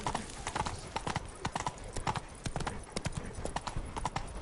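Galloping hooves of the horse Roach in The Witcher 3: Blood and Wine on PS4, a fast, steady clip-clop rhythm, close and fairly loud, with faint game ambience beneath.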